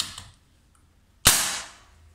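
A regulated M22 PCP air rifle fires a 26-grain Polymag pellet: one sharp, loud crack out of near silence that trails off in a short broad hiss over roughly half a second.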